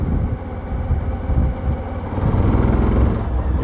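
Suzuki V-Strom 1000 motorcycle engine holding around 2100 RPM with a neutral map mod, a steady low throbbing drone that swells slightly louder in the second half, close and alone.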